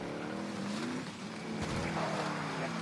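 A car drives in Warzone with a close, moderately loud engine hum that climbs in pitch, dips briefly, then rises again over a short stretch of gameplay with faint background noise.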